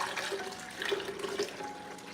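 A healthy drink is poured into a container, giving a soft, steady liquid trickle with a few small splashes and drips, heard close up and alone.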